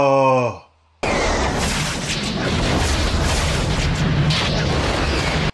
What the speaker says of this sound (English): Oh, that's that airstrike he was talking about.